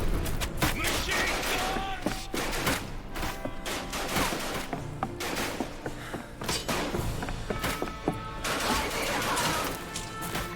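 Loud, dense gunfire and crashing impacts in the WWI horror game Ad Infinitum, continuous sharp bangs filling the scene without a break.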